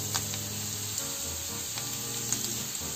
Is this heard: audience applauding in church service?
no